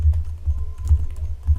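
Keys on a computer keyboard are struck in a quick, irregular run of soft close clicks and taps over a short burst, with no talking.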